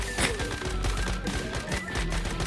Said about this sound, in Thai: ยิงเข้าไปครับผมยิงเข้าไปฮะ